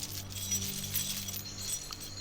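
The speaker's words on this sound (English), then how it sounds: "The chain sounds clinking everywhere." Metallic chains clinking in the video game Conan Exiles, a steady bright jangling texture that runs throughout over a low ambient hum.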